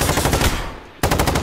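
AUG rifle fire in a video game: rapid automatic bursts crackle loud and close, break off briefly in a short pause, then resume at full rate.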